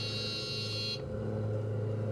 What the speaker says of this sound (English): I don't know why Carenado has that buzzer for your flaps.